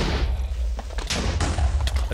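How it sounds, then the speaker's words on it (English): Rapid bursts of Minecraft gunfire and explosions crackle over a constant low rumble, with repeated sharp blasts spread through the stretch. "It's just all the explosions."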